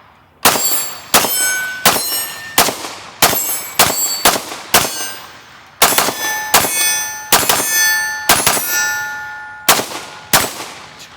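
P90 rounds ring off a steel dueling tree target in about fifteen sharp metallic clangs, some in quick pairs, each decaying with a bright ringing tail, loud and close with no voices.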